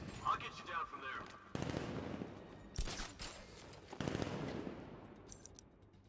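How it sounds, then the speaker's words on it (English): Gunfire in Batman: Arkham Knight, a few sharp, loud shots and bursts ringing out with explosive tails amid game noise, spaced irregularly across several seconds. "He shot him."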